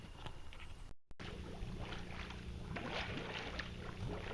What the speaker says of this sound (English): This is what it looks when you're blowing one of the return pipes from the bottom of the pool